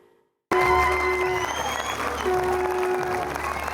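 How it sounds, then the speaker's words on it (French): Audience applause fills a darkened cinema hall after a film screening, a dense, steady wash of clapping that starts abruptly and holds loud and close throughout, with faint tonal music lingering underneath. "Dans la pénombre encore vibrante de la salle, les applaudissements s'imposent comme une nécessité."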